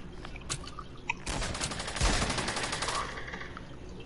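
Battle gunfire in a PS4 video game, with scattered shots at first and then a dense, sustained burst of rapid automatic fire and volleys. The fire stays fairly loud and continuous throughout, and no voices are heard.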